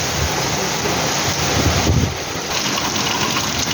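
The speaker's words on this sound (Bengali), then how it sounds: "ঝড়ে বৃষ্টি হচ্ছে" Torrential storm rain at night in Belgharia, a thick continuous roar with gusts of wind buffeting the microphone, swelling briefly midway before settling back to a steady close wash.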